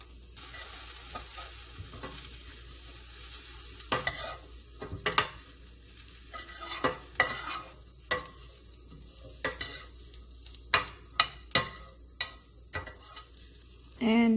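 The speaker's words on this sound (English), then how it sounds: "The onions are still not brown yellow yet, so we are going to keep stirring it until it is" Onions frying with turmeric and green and red chili in a pan for shahi paneer, stirred repeatedly: a steady sizzle broken by frequent scraping, clanking strokes of a spoon against the pan, close and fairly loud, with no talking.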